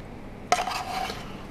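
Beef rendang with toasted coconut is stirred in a pan, a single sharp scrape of a utensil against metal followed by a brief, soft rasping drag, close and quiet.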